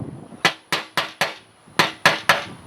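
A screwdriver gets light, rapid taps under a tang on the gas tank fitting of a 1994 Astro van, about seven crisp metallic knocks close by in two quick bursts.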